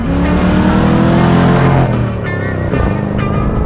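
A 1968 Ford Mustang and a Chevy Corvette drag race side by side, their engines roaring loudly and revving hard as they accelerate, with a brief dip and a quick shift before the engine noise surges again.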